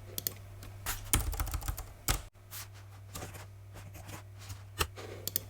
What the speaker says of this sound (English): So I'm going to just type that number here.